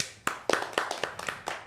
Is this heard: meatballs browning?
no